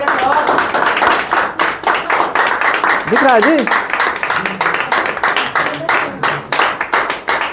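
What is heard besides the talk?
classroom clapping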